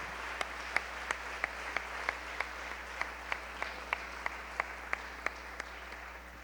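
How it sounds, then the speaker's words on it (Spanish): A church congregation claps as an offering, giving steady, evenly spaced single claps in unison, about three per second, fairly faint against a quiet room. "Dele ofrenda de palmas al Señor."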